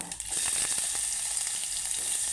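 Onion hitting hot oil already crackling with cumin and mustard seeds, a loud, bright, continuous sizzle with small popping bursts, close up and without talk.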